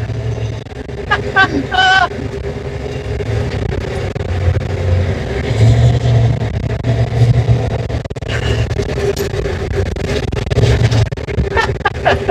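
A 1986 Ford F350 crew-cab pickup engine idles with a low, steady rumble while people talk over it.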